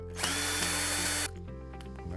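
A power screwdriver whines loudly for about a second while undoing screws on a Polaris Quattro Sport pool cleaner, then falls silent, leaving faint clicks and handling noises.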